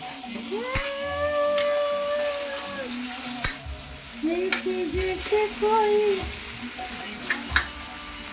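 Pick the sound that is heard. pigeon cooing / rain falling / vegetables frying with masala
vegetables frying with masala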